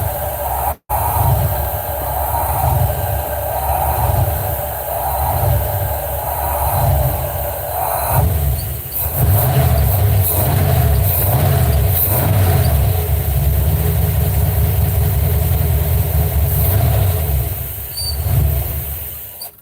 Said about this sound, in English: Why does it idle so horribly?